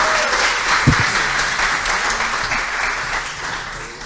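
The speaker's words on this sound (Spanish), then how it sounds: "Un fuerte aplauso para ellos." Audience applause at a startup Demo Day: a dense, steady wash of clapping from a crowd that holds for several seconds, easing slightly at the end.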